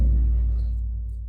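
Tama Starclassic Performer 16-inch birch/bubinga floor tom struck once, giving a deep, booming low thud that decays slowly over about a second, close and fairly loud, with no talking.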